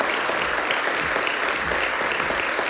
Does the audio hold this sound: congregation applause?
yes